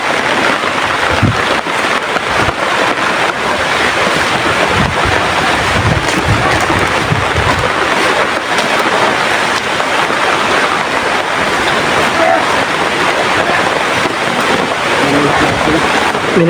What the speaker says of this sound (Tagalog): Malakas ang ulan mga tol.